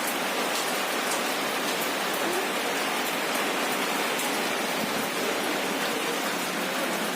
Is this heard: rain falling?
yes